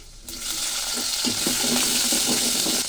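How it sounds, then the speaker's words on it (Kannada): Onion and green chili hitting hot oil in an Uttara Karnataka upma preparation, a steady close sizzle with occasional stirring clicks and scrapes, no talk over it. "ಆವಾಗ ಈ ಈರುಳ್ಳಿ, ಹಸಿಮೆಣಸು ಹಾಕ್ತೇನೆ ಫಸ್ಟು"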